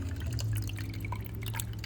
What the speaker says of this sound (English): And I'm adding the water right here.